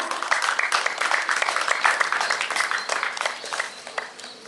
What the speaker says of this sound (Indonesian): mohon dengan semangat diberikan tepuk tangan yang meriah